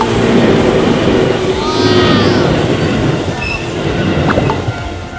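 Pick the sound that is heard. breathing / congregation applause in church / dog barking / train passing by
train passing by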